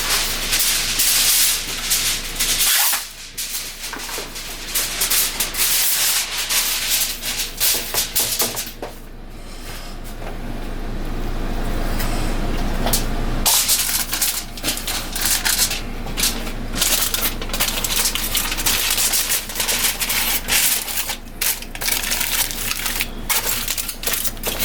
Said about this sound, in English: So I already wrapped one of the racks in some foil, so I'm just gonna wrap the other one now.